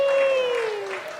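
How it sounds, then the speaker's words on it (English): Church congregation clapping during a Sunday service, a dense spread of applause under a steady sustained tone that glides slowly downward, with a voice also present. "You can clap."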